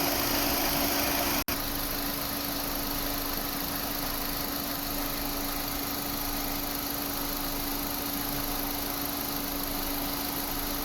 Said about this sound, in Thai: สียงการทำงานของคอมแมนและเครื่องยนต์ปกตินะครับ